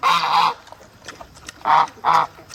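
Loud honking calls from ducks, two drawn-out honks at the start, then two more after a short pause, close by.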